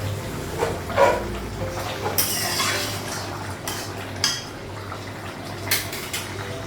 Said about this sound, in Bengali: ঢাকনাটা উঠাবো।